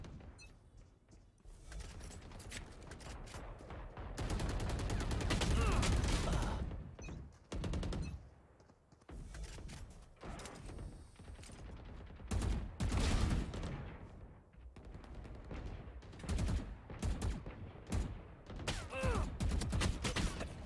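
Gunfire in a shooter video game, repeated bursts of shots rising and falling in loudness over about twenty seconds, with occasional booms and little talk.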